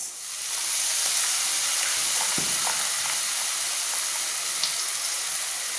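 A steady, loud sizzle of mushroom Manchurian frying in a hot pan as a spoonful of soy sauce goes in, with faint spatters and crackles over a constant hiss throughout.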